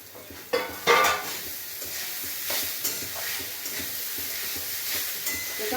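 Grated coconut stir-fried dry in a pan for ragi modak filling, a continuous soft sizzle with repeated scraping and stirring strokes of a spatula, a few louder clanks early on, no talking.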